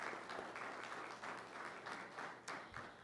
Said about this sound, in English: I'd like to give everybody in this room a round of applause for that.